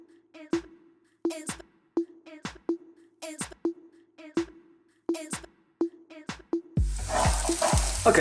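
A metal utensil scrapes and taps rhythmically in a pan of food over high heat, about a dozen sharp strokes, before a burst of loud sizzling frying swells at the end.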